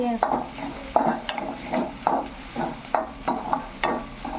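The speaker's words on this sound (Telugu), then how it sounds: "కొద్దిగా కారం అన్నీ వేసుకొని ఇలా బాగా ఫ్రై చేసుకోవాలన్నమాట." Spices, masala and chili powder, fry in a pan for an egg fry while a spoon scrapes and stirs in steady strokes about once a second over a constant close sizzle.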